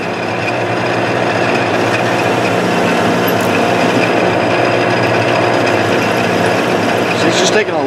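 A lathe facing the end of a pipe to prepare it for TIG welding, running with a loud, steady mechanical whir and a faint rhythmic ratcheting hum that stays constant and close from start to finish.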